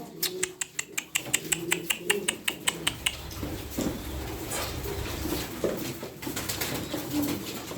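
Pigeons coo near and clear, one being a blue male, while fast rhythmic wing claps or clicks open the passage; soft voices murmur in the background.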